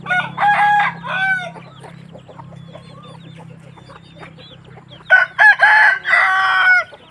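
Two loud rooster crows ring out, one at the start and another near the end, with softer clucking and a low steady hum in between.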